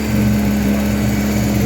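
A VW Golf Mk1 engine with a carburetor fault idles loud and close, its steady drone carrying a slight misfire.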